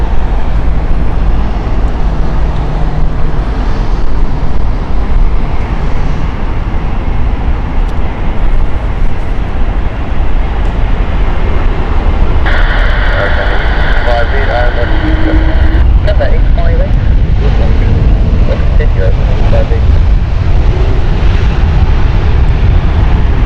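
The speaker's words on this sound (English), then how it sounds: "Lufthansa's Airbus A320 Neo." A Lufthansa Airbus A320neo lands on runway 27 right at Heathrow, its engines a loud continuous rumble under a speaking voice and radio chatter, with a brief higher whine partway through.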